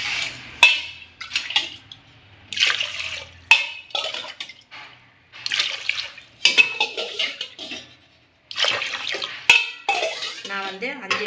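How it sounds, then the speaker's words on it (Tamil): Water poured from a glass into a pot of rice and moong dal for pongal, splashing and trickling in short bursts between clinks of utensils against the pot, close by, with someone talking throughout. "நான் வந்து 5 glass தண்ணி ஊற்றுறேன்."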